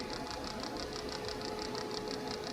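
A continuous hissing noise with a rapid, regular high-pitched pulsing tick, steady and even from start to finish, from the ultrasonic parking sensors of a 2019 Chevrolet Silverado in reverse with a parking aid malfunction.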